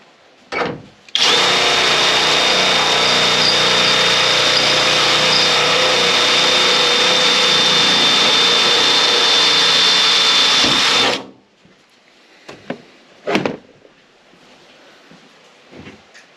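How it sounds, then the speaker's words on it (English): A power drill used while installing hood struts on a 2019 Toyota Tacoma runs loud and steady for about ten seconds at close range, then stops, followed by a few faint clicks and knocks. "Hit my drill."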